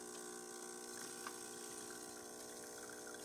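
A Jura J90 coffee machine rinses, its pump pushing water to the spouts with a steady, faint hum and a soft watery hiss, even and uninterrupted, with no voices.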